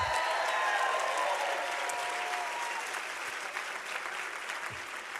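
Steady applause from a large crowd at the Aurora University 2022 graduate commencement ceremony, a dense even patter of many hands clapping at moderate distance that fades gently toward the end.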